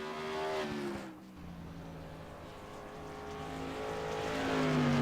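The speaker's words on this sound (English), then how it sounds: "Kyle O'Danick on the track now. The number 21 car." The number 21 modified race car laps the oval at USA International Speedway, its engine droning at a moderate distance with shifting pitch as it passes, and other car noise is faintly present.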